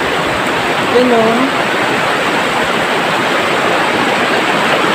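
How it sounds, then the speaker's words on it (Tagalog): Steady, loud rush of river water flowing near a waterfall in Palawan, a continuous broadband roar filling the whole clip, with a brief spoken word and faint voice over it. "Daan mo tayo sa may ilog."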